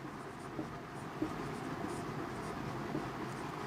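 A pen scratches on paper while a maths formula is written out, faint and close, with a few soft strokes and taps over a quiet steady background.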